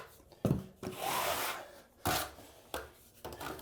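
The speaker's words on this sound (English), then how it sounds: "just trowel everything to make sure that you have a consistent layer of thin set" A 1/8 by 1/8 inch square-notch Kerdi trowel spreading thinset mortar over Kerdi membrane in a bathroom remodel, several close scraping sweeps separated by short taps and pauses.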